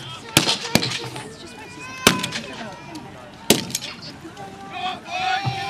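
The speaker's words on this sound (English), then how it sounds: "Will the weight of Boer magazine rifle fire see off our cavalry?" Boer magazine rifles firing at a historical battle reenactment, several sharp cracks spaced a second or so apart, loud and fairly close, with crowd murmur and a commentator talking between shots.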